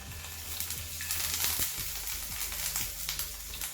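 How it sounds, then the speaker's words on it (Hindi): Paneer pieces frying in ghee in a pan, a steady close sizzle with crackling bursts and occasional stirring clatter. "एक पैन में घी डाल देंगे। उसके बाद हम इसमें पनीर के पीसेस डाल देंगे"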